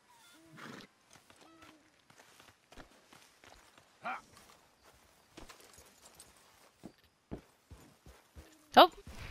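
Horse hooves in Red Dead Redemption 2 land in an uneven run of sharp, separate thuds, mid-distance and fairly quiet, with a brief loud burst near the end and a voice talking over them.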